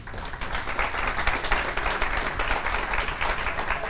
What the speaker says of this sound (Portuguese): eu queria que você desse uma salva de palmas para você mesmo